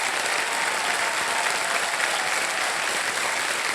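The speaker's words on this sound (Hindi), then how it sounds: "ताली बजाएं उनके लिए।" A studio audience on the KBC Season 15 game show claps in a dense, even burst of applause that stays loud and unbroken for a few seconds, with no speech over it.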